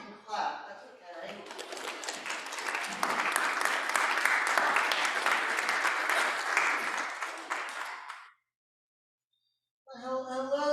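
Church audience on Christmas Eve clapping after music, a few seconds of steady applause that swells and then cuts off, with a voice talking before it and again after a short silence.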